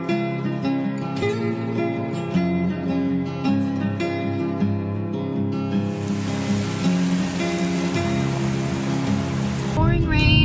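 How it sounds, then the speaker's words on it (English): Pouring rain on a fall day, a steady loud hiss that swells in over music and fills the second half, with no talking. "Pouring rain, we're on our way."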